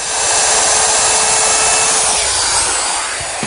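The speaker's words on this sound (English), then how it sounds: "With my dado, I can easily form that tenon that fits into the cleat." A dado blade on a table saw cuts a tenon in wood, giving a steady, loud whining grind that holds level for the whole stretch with no pauses.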